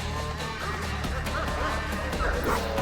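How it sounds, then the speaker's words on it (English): Dogs bark and yip at a distance over a steady low rumble and dense background noise, the barks rising and falling irregularly. "More barking. Even closer."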